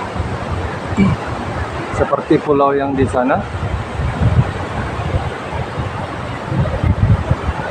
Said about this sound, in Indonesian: Dan sekarang kita di Pantai Kata